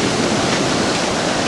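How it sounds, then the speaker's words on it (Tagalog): Strong ocean waves crash at Half Moon Bay, heard as a steady, loud, broadband roar of surf with no voices. "Lakas na alon"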